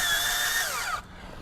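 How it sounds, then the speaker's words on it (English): A power drill drives self-tapping screws through a screen door rail and into vinyl, a loud steady whine with falling pitch for about a second before cutting off to quiet. "These self-tapping screws get through the rail no problem and then go right through the vinyl."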